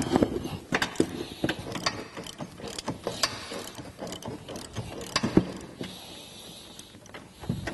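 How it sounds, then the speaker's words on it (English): A ratchet with an 18mm socket on a 3-inch extension loosens front bumper bolts on a Jeep JK, giving repeated bursts of close, sharp ratcheting clicks with brief pauses and metallic knocks between strokes. "What we're using here is an 18mm socket with a 3-inch extension."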